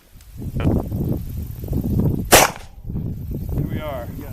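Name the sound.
gunshot from a .45 Long Colt lever-action rifle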